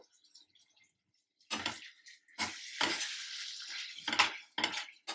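Ridge gourd and egg curry being stirred in a cooking pan, with several distinct scraping, sizzling bursts of spoon against pan separated by short pauses, close and moderately loud.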